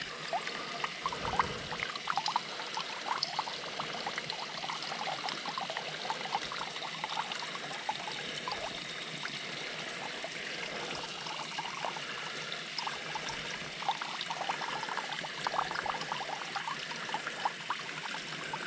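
Fresh stream water pours and trickles steadily through a camping water filtration system outdoors, a soft continuous splashing flow with faint fluctuations and no talk.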